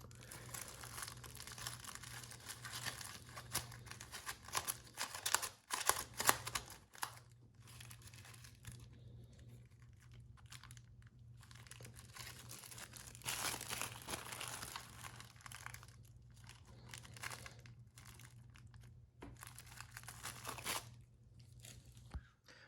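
A plastic bag crinkles and rustles close by in bursts, with louder crunchy handling around the middle, while working on a DRZ400SM motorcycle. A steady low hum runs underneath and nobody talks.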